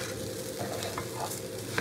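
Rice frying in a pan gives a soft, steady sizzle as it is stirred, with a few light scrapes close by and no talking.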